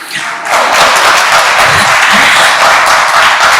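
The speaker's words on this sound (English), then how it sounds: "You're clapping a bit too soon." Audience at a spiritual talk breaks into broad, continuous applause, loud and steady for several seconds with no pause.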